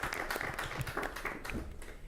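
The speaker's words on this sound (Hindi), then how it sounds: "एक बार जोरदार तालियां हो जाएं हमारे सभी किसानों," A crowd applauds farmers and agricultural experts at a crop insurance discussion program, a fairly faint, continuous patter of many hands clapping together.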